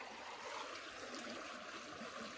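Creek water flows steadily along a cold outdoor walk, a continuous close babbling trickle with no voices.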